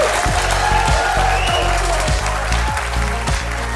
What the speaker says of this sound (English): ART31, amazing, and I think deserve a huge round of applause.